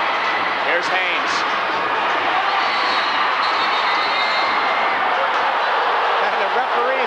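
Loud indoor arena crowd at a 1995-96 NPSL indoor soccer championship game between Kansas City and Cleveland, a continuous roaring wash of voices with commentary over it.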